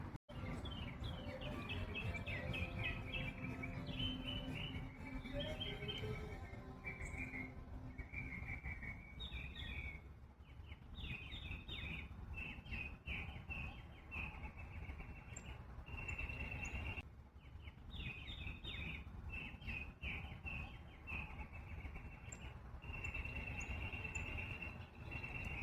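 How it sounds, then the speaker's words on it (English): A northern cardinal sings outdoors, repeated clear whistled phrases at moderate distance, over a steady bed of insect and cricket noise. "The cardinal is a type of finch that can be found in gardens, streamside, and woodlands throughout the east and southwest sections of the United States."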